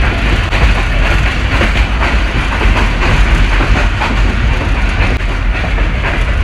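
A packed passenger coach of the 12 Down Hazara Express runs on the rails through a station on an overnight journey, with a loud, continuous roar and rattle and the steady clickety-clack of wheels. No one speaks.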